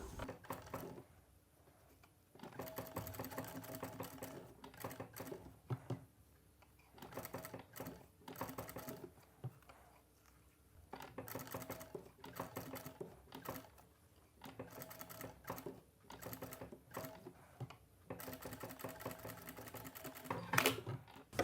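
A sewing machine stitches gold piping onto a cotton silk saree blouse, its needle rattling in quiet bursts that start and stop repeatedly over about twenty seconds.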